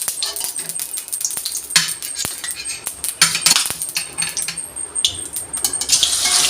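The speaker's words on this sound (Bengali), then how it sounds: "কড়াইতে তেল দিয়ে দিয়েছি তেল গরম হয়ে গেছে আমি একে একে মাছগুলো দিয়ে দেবো" Katla fish pieces are slipped one by one into hot oil in a wok, giving sharp clinks and spattering crackles over a hiss that swells louder toward the end.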